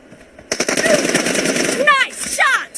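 Rapid automatic gunfire rattles in bursts during a first-person shooter team deathmatch, loud and close, with a voice speaking over the shooting near the end.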